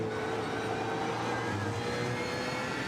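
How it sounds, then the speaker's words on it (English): A BMW Z4 GT3 race car engine in a Nürburgring endurance sim race drones steadily for three seconds, a continuous mid-loud roar with a sustained engine hum and no talk. "pretty good sound in the BMW Z4 GT3"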